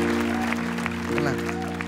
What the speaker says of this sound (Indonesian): Boleh tepuk tangan untuk Ferry.